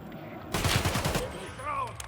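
A rapid burst of automatic gunfire in Escape from Tarkov rattles for about three-quarters of a second, then a voice speaks briefly over quiet game ambience.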